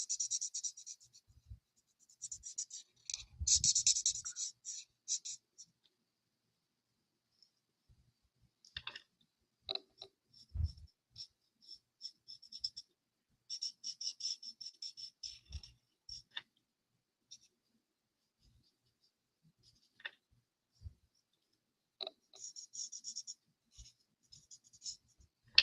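Markers and pencils scratch across paper during a card-making session with a paper craft kit, in quiet, intermittent bursts of close scribbling and clicking strokes separated by pauses.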